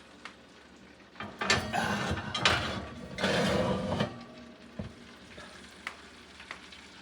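Lobster tails sizzling and crackling in a hot cast iron pan, with bursts of louder frying and clattering as they are moved, then quieter sputtering with a few sharp clicks.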